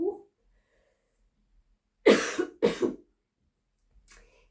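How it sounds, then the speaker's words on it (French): Two sharp, close coughs in quick succession from a speaker, loud against near silence, with a brief murmur before and a faint sound after. "Vous voyez, je tousse."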